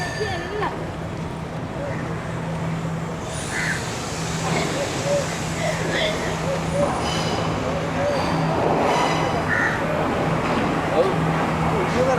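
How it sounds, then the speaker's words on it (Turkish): A train rumbles steadily into a station platform in Sri Lanka, with a low continuous drone and scattered clanks, while voices chatter nearby. "Çünkü bir tane tren geliyor bak."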